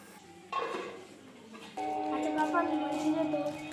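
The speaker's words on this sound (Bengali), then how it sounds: "এবার আমি ঢাকনা চাপা দিয়ে রেখে দেব" A metal lid clanks onto a pot of simmering parshe fish curry cooked with potatoes, onion greens and mustard paste, one clear contact followed by a second settling clatter and a faint ringing under a woman's speech.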